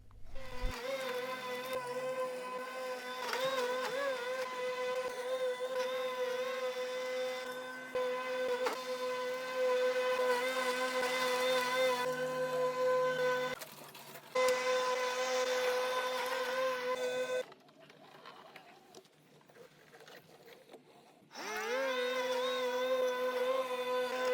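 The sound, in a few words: Lymow One Plus robot lawn mower cutting grass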